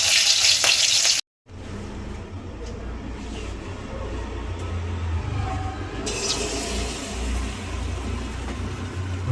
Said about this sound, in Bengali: আগে অল্প কিছু ছেড়ে দেখি এগুলো কেমন কি ভাজা হচ্ছে।